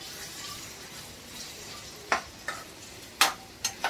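Halved green chilies dropped onto a hot tawa for garlic paratha, faint steady sizzle with a few sharp crackling pops and spits near the end.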